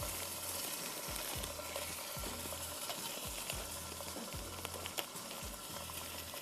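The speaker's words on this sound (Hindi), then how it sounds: "और मैं इसमें डालूंगी चिकन टिक्का चंक्स," Frozen chicken tikka chunks fry in a pan with a steady, loud sizzle, broken by repeated rhythmic scraping strokes as the pieces are stirred and turned.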